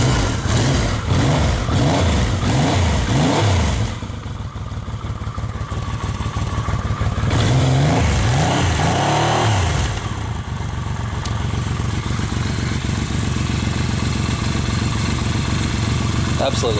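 A 1978 Yamaha XS750 motorcycle engine revs up and down in repeated bursts, then settles into a loud, throaty idle close by.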